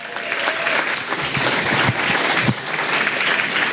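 An audience at the Mayor's 2017 Diversity and Inclusion Awards applauds loudly and steadily throughout, a dense wash of clapping from many hands with no talking over it.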